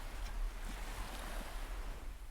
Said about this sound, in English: You can hear the ocean waves.